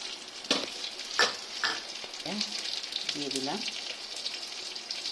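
Ginger sizzles steadily in hot oil in a pan for a fish dish, a close, continuous crackle with a few stirring clatters, while someone talks over it.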